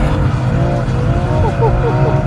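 A BMW M3 engine pulls hard under acceleration, loud and close with rising harmonic tones as revs climb, the steady roar filling the whole stretch.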